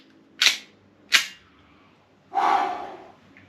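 Tokyo Marui Gen5 Glock 18 airsoft pistol fired with its original Gen 5 magazine, giving two sharp separate cracks and then a longer, rasping burst, close and loud with no talk.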